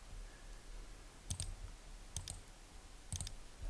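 A computer mouse clicks three times at steady intervals, each a quick pair of faint, close taps over a quiet room hiss.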